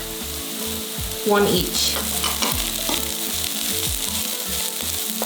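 Garlic cloves with green and red chili sizzle loudly in a hot pan, a close, continuous frying hiss with a brief crackling surge as the ingredients go in and a few stirring scrapes, with a single word spoken.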